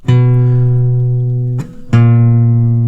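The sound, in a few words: guitar notes dropping by half step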